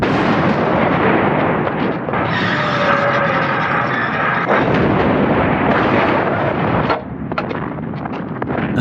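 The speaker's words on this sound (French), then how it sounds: "Un canon de 75, ça peut tirer 20 obus par minute." Deep booming fire from 75mm field cannons, rolling and continuous like a distant barrage, with rumbling blasts overlapping one another.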